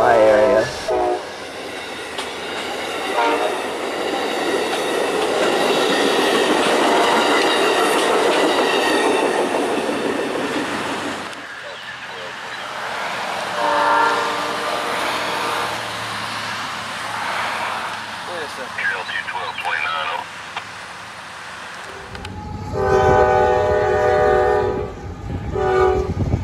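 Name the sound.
freight train passing with train horn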